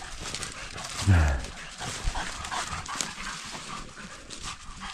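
Dogs panting and moving through a forest on a trail, with a short bark-like burst, close by while a person talks over them.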